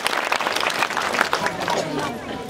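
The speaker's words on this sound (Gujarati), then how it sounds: "વનરાજસિંહભાઈ માટે પણ જોરદાર તાળીઓથી અભિવાદન કરી" Crowd applause welcomes guests, including a former army man, at an army retirement ceremony in Asajol village; dense, steady clapping fills the whole stretch at an even level.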